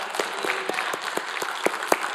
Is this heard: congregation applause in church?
yes